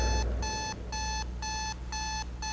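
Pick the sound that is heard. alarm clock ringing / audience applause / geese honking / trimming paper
alarm clock ringing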